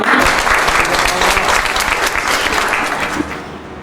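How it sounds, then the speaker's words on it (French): Loud, dense audience applause at a training certificate ceremony, continuous clapping from a crowd that tapers slightly toward the end. "Alors, veuillez applaudir Oratorship Academy."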